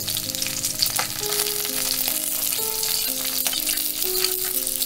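Fish heads rubbed with salt and turmeric sizzle and crackle steadily in hot oil as they are lifted out, with soft scraping and clinks of a utensil under the close frying noise.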